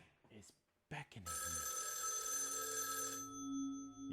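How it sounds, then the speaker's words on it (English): Telephone ringing in the video game Raidou Remastered: a steady electronic ring that sustains loudly for about two seconds and then fades, preceded by brief talk. "The phone is ringing."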